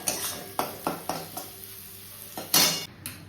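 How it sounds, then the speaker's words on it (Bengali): Crushed garlic and onion frying in a pan, a soft sizzle punctuated by repeated spoon scrapes and clinks against the metal, ending in a louder burst of sizzling. "একটু রসুনটা ভাজা হয়ে গেলে এখানে এই মাছটা দিয়ে দেবো"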